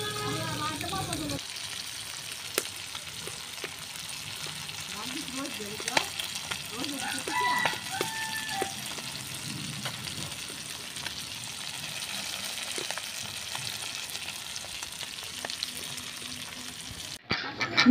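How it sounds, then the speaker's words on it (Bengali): Fish frying in a pan for a village lunch in Bangladesh, a faint, steady sizzle that runs throughout with occasional stirring clicks and scrapes. "মাছগুলাকে ভেজে নিচ্ছি, যেহেতু দুপুরের জন্য ভাজা হচ্ছে"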